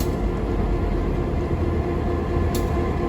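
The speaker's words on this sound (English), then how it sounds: "Inside this locomotive is a large diesel motor turning a generator." Large diesel locomotive engine driving a generator at a turntable exhibit in East Chattanooga, Tennessee; a steady, dense low rumble and hum holds evenly throughout, close and continuous, with no talk.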